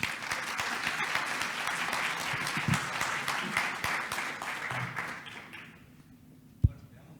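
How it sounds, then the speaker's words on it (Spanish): An audience at a national public budget seminar gives a sustained round of applause for an arriving speaker, dense clapping that fades out near the end, followed by a single thump. "Lo recibimos con un fuerte aplauso, por favor"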